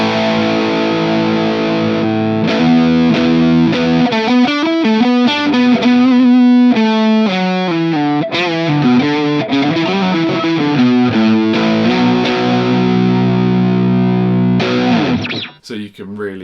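Loud electric guitar through a Nobels ODR-1 overdrive pedal with gain fully cranked, playing sustained chords and melodic lines with a slightly fuzzy, saturated edge before ringing out at the close.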